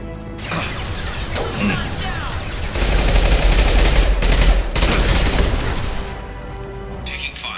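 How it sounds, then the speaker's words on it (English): Heavy gunfire crackles through a Mass Effect 2 firefight, with sustained rapid bursts that swell into a louder, dense barrage midway before easing off, while a voice speaks over the fighting. "Taking fire."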